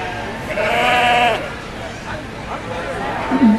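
White Romney sheep bleat at a sheep show: one long, wavering bleat rises over steady crowd chatter, with fainter bleats later amid the hubbub.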